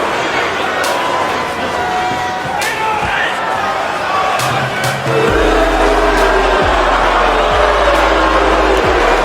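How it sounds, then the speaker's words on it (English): A large arena crowd at a TNA wrestling event boos loudly and steadily through the wrestler's entrance, a dense continuous roar with a few sharp thuds and booming hits partway through. "he has been getting received with the sea of boos"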